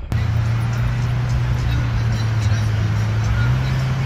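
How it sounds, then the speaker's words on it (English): Ford Econoline E-Series van with lifted Action Van suspension and rear locker cruising over sand dunes, a steady low engine drone and wind rumble holding constant throughout, fairly loud and close. "here we are, having a good time, vanning around the dunes"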